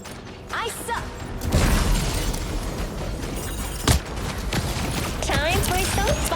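Explosions and fireworks-style bursts from the Marvel Rivals video game, a dense, loud barrage of booms and crackling blasts with mechanical effects and in-game voice lines over a continuous battle din.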